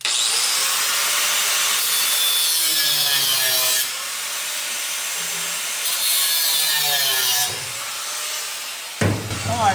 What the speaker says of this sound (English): I'm gonna cut these here bolts off because they're about 6 miles too long